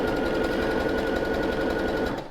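A sewing machine runs a continuous zigzag stitch through men's boxer fabric, a rapid, even mechanical chatter heard close and loud for about two seconds before it stops abruptly.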